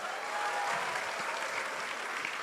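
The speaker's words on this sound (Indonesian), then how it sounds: "Tepuk tangan dulu semuanya." Steady, moderately distant crowd applause at an Indonesian political gathering, a continuous wash of clapping holding evenly throughout.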